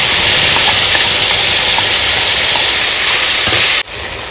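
Spice paste hits hot mustard oil in a wok over a green chilli tempering for kasundi hilsa, giving a loud, steady, broad hiss that runs without a break and then drops off suddenly near the end.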